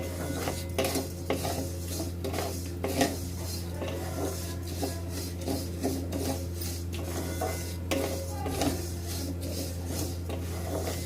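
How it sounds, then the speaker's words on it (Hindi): Toasted vermicelli is stirred continuously in a pan to cool it, a close rhythmic scraping and rasping of the utensil against the metal over a low steady hum, no talking. "तो देखिए मैं इसे कंटिन्यू चला रही हूँ और अपनी सेवई को ठंडा कर रही हूँ"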